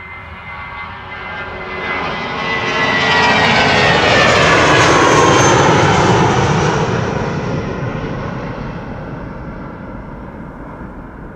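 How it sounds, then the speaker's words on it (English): A British Airways airliner departing Amsterdam Schiphol toward London Heathrow, its engine roar building to a loud sustained peak mid-pass and then slowly fading, with no voices over it. "This is BA on its way to London Heathrow."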